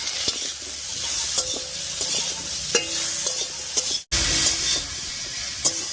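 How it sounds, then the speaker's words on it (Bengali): Vegetable stalks with salt and turmeric being stirred in a frying pan, a continuous hissing sizzle with repeated spoon scrapes and knocks against the metal, a short break near the end, and no voices. "হলুদ লবণ দিয়ে খুব ভালো করে মিশিয়ে নিয়েছি"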